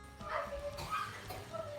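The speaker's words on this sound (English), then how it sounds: "Stop barking." A dog gives a few short barks and yips indoors, faint and somewhat distant, mixed with quiet background noise.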